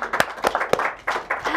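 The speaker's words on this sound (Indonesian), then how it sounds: "Tepuk tangan dong semuanya." Audience at an Indonesian talk session clapping briefly, a short burst of scattered applause with a few distinct claps, fairly close, mixed with light voices.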